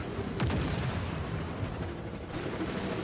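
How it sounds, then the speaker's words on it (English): Explosions in a racing video game during a tournament, a dense, loud rumbling barrage of blasts and booms filling the whole stretch without pause. "Explosions through the opening canyon."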